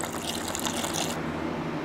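Washer fluid pours out of a Honda Del Sol windshield washer tank in a steady hissing, splashing stream that cuts off abruptly partway through.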